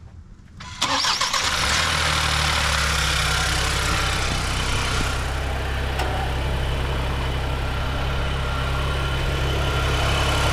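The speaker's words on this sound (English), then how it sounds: "why don't you start up the vehicle, Ben?" A 2024 Ford Escape with the 1.5L EcoBoost engine cranks briefly and catches after a short quiet moment, then settles into a loud, steady idle that runs to the end.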